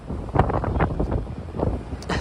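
Roughly 25 mph winds on a cold night New York City street by the Plaza Hotel buffet the microphone in loud, uneven rumbling gusts that keep rising and falling.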